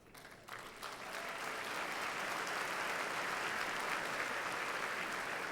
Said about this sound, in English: you'll get a lot more chance to applaud for Travis.